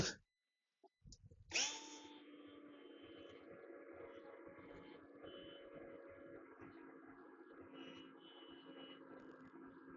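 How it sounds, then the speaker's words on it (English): After a brief start, an electric drill with a blunt bit whines steadily at a constant pitch, grinding continuously through metal on a Honda C90 at close range. "My drill bit's a bit blunt."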